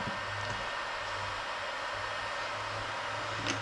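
A heat gun blowing steadily while heating glue on a custom speaker grill for a 90s C1500 truck, a constant faint whooshing hiss with a low hum and no change in pitch.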